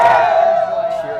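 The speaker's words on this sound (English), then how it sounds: "More people are coming to the streets, cheering for them." A crowd cheers in the streets near the launch base for the Shenzhou-13 crewed spaceflight in China, a loud, sustained roar of voices that fades slightly across a brief moment.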